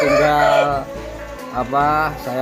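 A chicken suffering from a fungal skin infection gives hoarse, strained calls, two short raspy bursts with a brief pause between them, heard up close.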